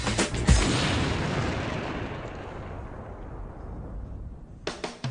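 A Bouncing Betty landmine detonates in a sharp, deep blast, followed by a long rumbling roar that slowly fades, with a few crackling pops near the end.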